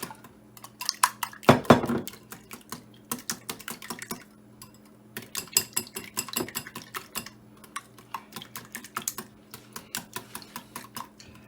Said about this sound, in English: And now I'm just whisking my eggs.